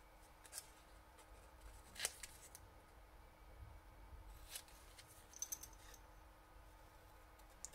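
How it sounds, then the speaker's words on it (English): Scissors trimming around a paper Christmas tree on a handmade card, quiet intermittent snips and paper rustles close by. "So I'm just trimming this round."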